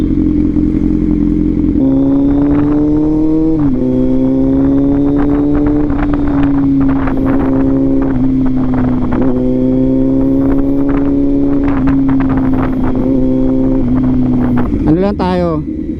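Kawasaki Z900 motorcycle with a fuel pump acceleration fault ridden in third gear, its engine a loud close drone that rises and dips with throttle changes, wind buffeting underneath and a rider talking over it.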